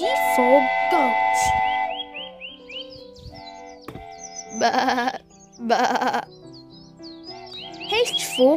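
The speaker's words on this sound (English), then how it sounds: "G for goat." Several loud, wavering bleats sound up close, coming in bursts with pauses between them, over a light, cheerful tune.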